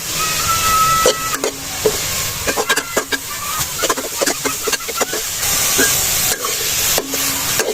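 Crushed carrots cook in hot oil in a pot over an open village fire, a steady sizzle broken by repeated scraping stirs, close and fairly loud with no talk.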